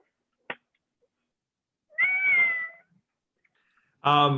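A pet cat gives a short chirp followed by two drawn-out, loud meows close by, separated by quiet pauses.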